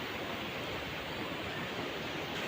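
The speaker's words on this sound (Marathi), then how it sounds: "आपण बघू शकतो की गोदावरी नदी दुथडी भरून वाहत आहे" The Godavari River rushes in full flood at Apegaon barrage, a dense, steady roar of water that holds constant and fairly loud throughout with no voices.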